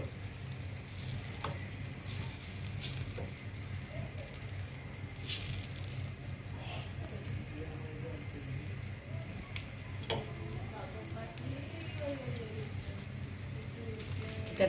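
Oil sizzling steadily in a pan while a rohu fish curry cooks in a home kitchen, a soft continuous crackle with occasional spatters and a few faint clinks, close and with no talk.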